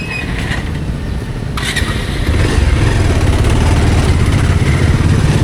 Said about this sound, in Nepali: बाइक त हल्ला जस्तो